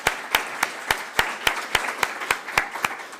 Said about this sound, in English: Give him a round of applause, you guys.